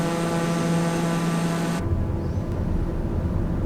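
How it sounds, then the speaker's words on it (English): Deha TPM 930 single-engine turboprop on a flaps-down landing approach to Lukla, a steady loud propeller and engine drone with a strong low hum that shifts in tone partway through, continuous with no speech. "TPM 930 is a turboprop, which is quite powerful."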